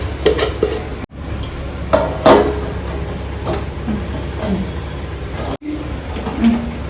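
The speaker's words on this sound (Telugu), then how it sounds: "అన్నం మొత్తం తీసేసుకుందాం." Cooked rice for chicken biryani is scooped from a pot in a home kitchen, with metal spoon scrapes and clinks against the vessel in short, irregular bursts, close and fairly loud over a low stove hum.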